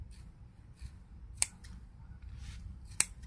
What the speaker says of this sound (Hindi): ऐसा कैंची से ना उसको बीच का सब निकाल लेना है हम लोग को